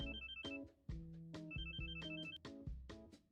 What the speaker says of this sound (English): Oh wait, there's a phone.